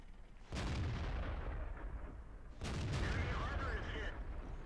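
A British Centurion Mk1 tank fires its main gun in World of Tanks, two heavy booming shots a couple of seconds apart, each followed by a long rumbling tail inside a dense, noisy battle mix.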